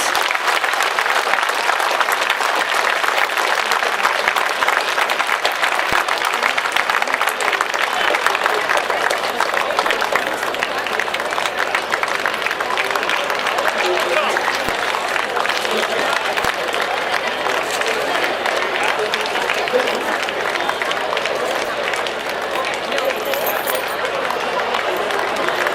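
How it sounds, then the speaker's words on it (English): A large audience at a school golden jubilee celebration applauds retired teachers with steady, dense clapping that holds loud and unbroken throughout, with cheering voices mixed into the crowd noise. "the least we can do for these beacons of inspiration is to give them our loudest round of applause"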